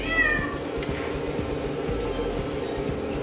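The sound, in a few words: cat meowing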